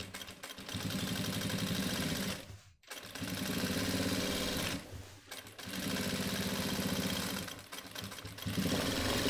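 A sewing machine stitching a shirt, running in long even bursts of fast rhythmic chatter with short pauses between runs, loud and close with no talking.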